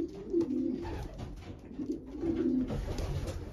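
Racing pigeons cooing in a loft, soft repeated low coos from several birds close by over a constant rustling background, no talk.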